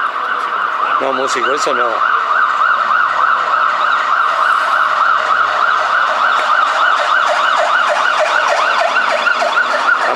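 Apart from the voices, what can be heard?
emergency vehicle sirens passing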